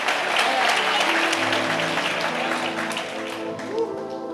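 A church congregation breaks into sustained applause, dense clapping that stays loud and then slowly thins, with voices calling out within the crowd.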